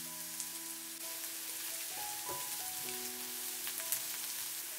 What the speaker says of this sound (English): When the oil is hot, put the onion.